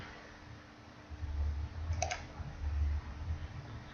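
A single crisp computer mouse click sounds close and quiet over a low steady room hum.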